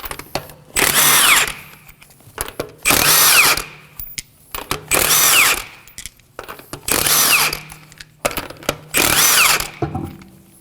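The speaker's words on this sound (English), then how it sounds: "With a 19mm socket, we're going to remove the tire." A power tool fitted with a 19mm socket removes the lug nuts from an Acura MDX wheel in five loud, close bursts of whirring and hammering, each around a second long, with short quiet gaps between them.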